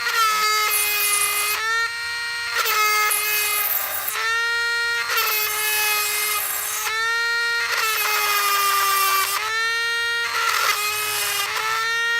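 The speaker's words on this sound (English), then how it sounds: "with a diamond drill bit and a bucket of water to keep it from shattering while we do this" A high-pitched Dremel with a diamond bit whines in repeated bursts of about two seconds, with short pauses between, drilling a ceramic teacup close by, water used to keep it from shattering.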